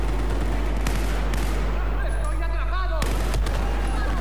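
Bursts of gunfire in a Battlefield 4 shooter game on the Dragon's Teeth map crack out in several sharp reports over a constant low rumble, with game sounds and a voice talking between the shots.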